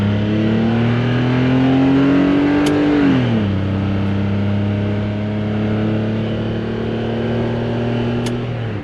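A 1993 Geo Metro's small engine drones loudly under acceleration on a drive, pitch rising steadily, then dropping with a shift and settling into a constant hum close by.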